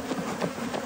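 Honey bees buzz close and steady around a hive during a honey harvest in Zimbabwe, a dense, continuous drone with slight swells over one second.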